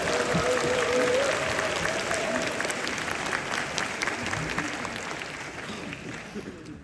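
Loud, dense applause with cheering from a large audience at the opening of a town hall meeting in Jeju, sustained throughout and tapering slightly toward the end.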